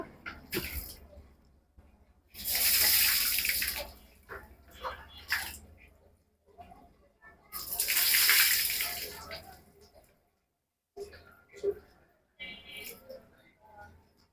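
Bath water gushes from a tap in two loud bursts of rushing flow, separated by quieter stretches where people talk and soft splashing and whimpering sounds come through.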